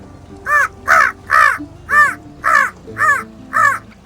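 A person imitates a crow with seven harsh, evenly spaced caws, loud and close.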